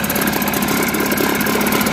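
A Mercury 4.5 outboard motor runs on a 1977 6.4-meter MacGregor sailboat, a loud, close, steady idle with a buzzing, slightly knocking rhythm and no voices.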